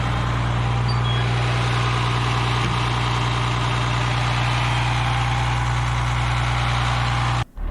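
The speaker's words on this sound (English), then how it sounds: "You can see I brought it up to high idle using the cruise control buttons." A Foretravel diesel motorhome engine runs at high idle, a loud, steady droning rumble with a constant low hum that holds unchanged for several seconds before abruptly cutting off near the end.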